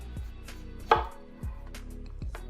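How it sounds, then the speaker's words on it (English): A kitchen knife chops through a whole onion on a cutting board in three or four distinct, crisp thunks spaced about half a second apart, close and clear with no talk. "we'll place the whole onion right there on the cutting board and cut again"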